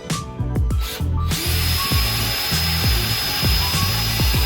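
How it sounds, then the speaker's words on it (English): A power drill whirs loudly and close by in a steady run, drilling a hole in a Sprinter van roof, its pitch pulsing in a regular rhythm as it bites. No one speaks. "So we're gonna go ahead and drill that now."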